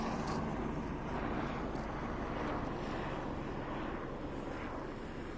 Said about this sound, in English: And helicopter flying low.